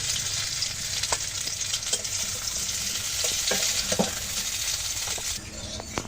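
Pointed gourd (potol) frying in oil in a wok, a steady close sizzle with occasional sharp clinks and stirring scrapes throughout.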